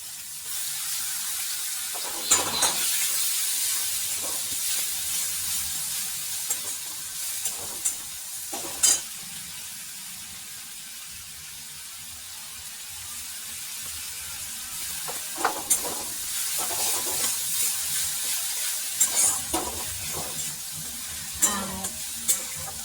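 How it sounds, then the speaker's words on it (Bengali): A chopped spice paste for egg curry fries in a pan with a steady, close sizzle, broken by repeated scraping strokes of a spatula at uneven intervals. "ও মশলাটা তো বেশ মোটামুটি ভাজা হয়ে গেছে"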